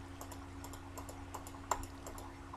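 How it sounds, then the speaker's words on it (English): Computer mouse clicks made while crafting in Minecraft, a quick scattered series of small clicks, with one louder snap near the end, over a quiet low hum. "You know, a whole bunch of mouse clicks."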